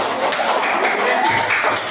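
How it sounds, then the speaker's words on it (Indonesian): A classroom of classmates applauding after a group presentation, a steady dense patter of clapping hands held evenly for the whole stretch. "Tepuk tangan teman-teman."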